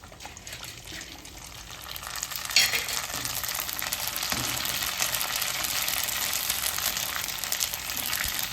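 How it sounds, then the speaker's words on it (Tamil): Oil hits a heated pan and bursts into a sudden, steady crackling sizzle that then continues evenly, heard close up with no talk, during the making of home-style pani puri. "சட்டி காஞ்சிச்சு, எண்ணெயை ஊற்றிக்கலாங்க"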